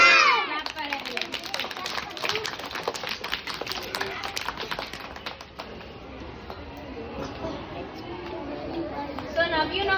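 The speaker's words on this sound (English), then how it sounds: "Clap for everyone." Children in a classroom clap together in a quick, uneven burst of applause that fades into chatter and a teacher's voice talking over the room.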